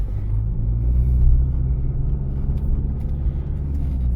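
A car drives along a narrow street on a Rivne driving-exam route, a steady loud low engine rumble heard from inside the cabin, with no talking.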